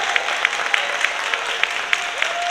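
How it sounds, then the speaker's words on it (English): An audience applauds after a dance performance at an end-of-year school celebration, a steady wash of clapping with a faint tone running underneath. "Let's give them a round of applause."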